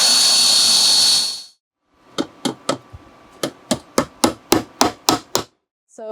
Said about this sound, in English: So that's what we're going to do here now, is pre-drill the holes.